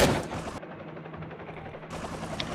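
Gunfire from a drone in the survival video game Last Day Rules: Survival sounds as a loud burst of shots at the start, quieter rattling through the middle, then more shots near the end.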